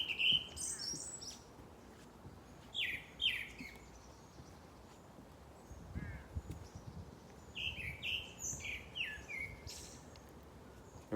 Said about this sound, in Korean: 노래는 꾀꼬리가 짱이지.